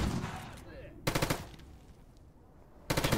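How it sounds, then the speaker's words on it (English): Gunfire in the S.T.A.L.K.E.R. GAMMA video game, fired at a dead body: a loud burst of automatic shots near the start, a second burst after a quiet pause, and a third beginning at the very end. "That is a dead body I'm shooting."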